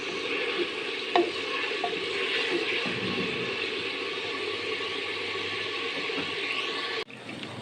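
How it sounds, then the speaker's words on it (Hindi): Minced meat frying in ghee while being stirred for an aloo keema handi, a continuous sizzle with spatula scrapes and taps against the pan, a sharp clunk near the end. "अब इसको हम मिक्स करेंगे थोड़ा सा ताकि ये हर तरफ से फ्राई हो जाए।"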